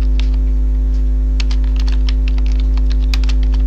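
Computer keyboard keys clattering in quick irregular bursts, close and crisp, over a constant low electrical mains hum, with no talk.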